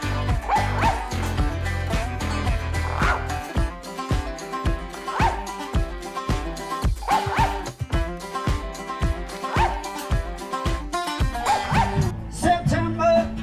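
Dogs at a street protest bark and yip repeatedly in a steady rhythm, loud and close, mixed with a background of music or crowd noise.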